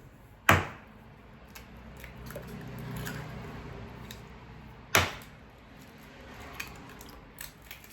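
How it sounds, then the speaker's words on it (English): Two eggs cracked into a bowl for homemade granola: two sharp, close cracks a few seconds apart, with faint handling and clinking sounds between them. "I'm gonna crack 2 eggs."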